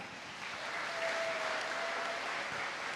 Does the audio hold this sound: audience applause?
yes